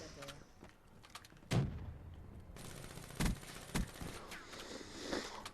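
Gunfire in Call of Duty Black Ops 3 on the Awakening DLC map Rise: several loud, sharp shots spread across the clip, with a dense burst near the middle, over a steady game-ambience bed.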